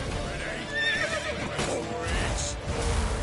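A horse whinnies in a video game amid a busy, dense soundscape, with faint hoof clatter and steady background noise running throughout.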